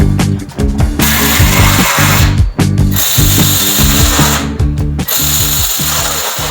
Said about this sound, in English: You've just got some bolts underneath that you're going to line up and screw in.